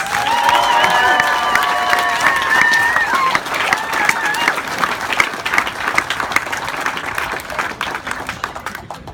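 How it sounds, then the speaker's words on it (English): A crowd applauds and cheers for cyclist Aaron Gates at a Tour of Southland final stage presentation, dense clapping building over a loud public-address voice in the first seconds, then sustained steady applause fading slightly toward the end. "Would you give a warm, rousing applause, please, for Aaron Gates?"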